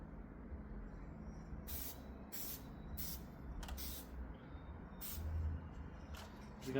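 A spray can lays a light tack coat of paint on a Jackson DKMG guitar body, several short hissing bursts of spray over a faint low background hum.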